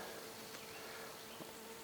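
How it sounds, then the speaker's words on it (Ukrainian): Osmia mason bees buzz faintly and continuously at the end of their season, a thin steady hum with no voices. "хочу показати останні бджоли осьмії"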